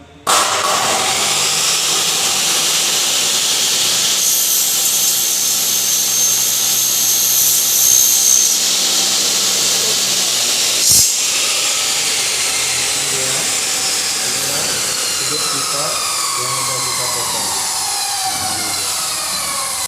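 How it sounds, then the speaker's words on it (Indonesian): A pipe being cut at an angle, a loud, steady high-pitched grinding whine that runs continuously for about twenty seconds with one brief sharp click partway through and no talk. "bagaimana sebuah pipa dipotong dengan sudut kemiringan yang kita kehendaki"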